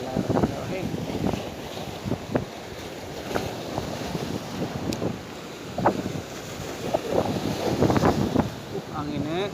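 Strong wind buffets the microphone on a seashore while shore fishing, a steady roar with surf washing in underneath, gusting louder toward the end, with short bursts of talk and knocks from handling.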